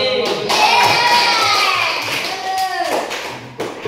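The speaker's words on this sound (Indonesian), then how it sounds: "berikan aplaus untuk kelompok 2" Classroom applause as seventh-grade students clap for a group that has just finished reciting the Quran, a fairly loud spread of hand claps from a room of children, with some voices mixed in near the end.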